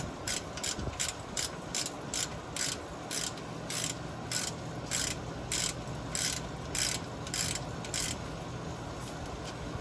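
A ratchet loosens a brake line bracket bolt on a Ford F-150, giving quick, steady runs of metallic clicking strokes close by over a faint background hum.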